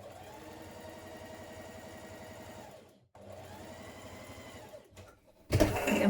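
A sewing machine runs in steady whirring bursts while stitching a dart on a sleeveless shirt, close by, pausing briefly mid-seam, then a short stop before a louder clatter at the end.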